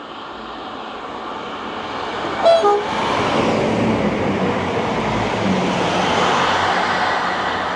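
An EMR passenger train passing close by and giving a short two-note toot, followed by a sustained loud rumble and rolling roar as the carriages run past.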